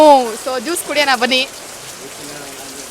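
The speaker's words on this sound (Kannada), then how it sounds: "ಸೊ ಮಳೆಗಾಲ ಮಳೆ ಬಂತು" Steady rain falls at a Bangalore food street as a soft, even hiss. Someone speaks briefly close by over the rain at the start.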